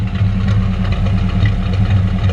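Close, loud idle of a 1951 Ford F1 truck engine, a deep steady burbling rumble from the dual exhaust with a slightly uneven pulse.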